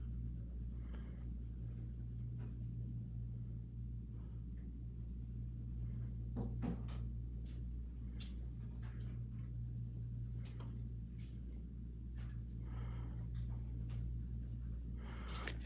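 Pencil shading on paper around a drawn sphere, a quiet continuous scratchy rasp of graphite strokes over a low steady background hum, with no talking.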